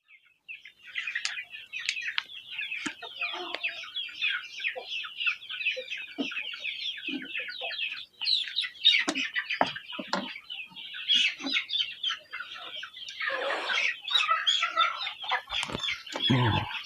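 Native village hens clucking inside a chicken coop, kept as breeding stock: continuous overlapping clucks and chirpy calls from several birds, close and steady, with a few louder squawks and some scuffling near the end, no talking.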